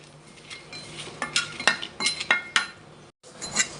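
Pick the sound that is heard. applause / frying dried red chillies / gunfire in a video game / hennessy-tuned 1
frying dried red chillies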